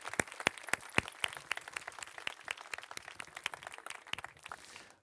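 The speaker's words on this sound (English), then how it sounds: "Ladies and gentlemen, a round of applause for our sponsors who made this possible." Audience applause for sponsors at a Fourth of July speech event in Almedalen, a moderate crowd clapping with distinct individual claps standing out close by, steady and unbroken throughout.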